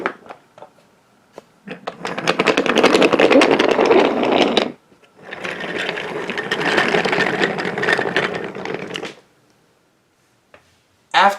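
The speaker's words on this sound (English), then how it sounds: "Soon all of the engines started to leave Knapford." Toy-style steam engines chuffing out of a busy station, two long bursts of rapid rhythmic puffing and mechanical clatter, fairly close and loud, separated by a short pause, with a few faint clicks before and after.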